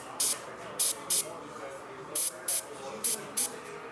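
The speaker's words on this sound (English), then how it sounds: "I'm gonna spray into the crack right there" An airbrush lays basecoat paint onto a backpack in about eight short, sharp hissing bursts, each a fraction of a second, spaced unevenly and heard up close over quiet room tone.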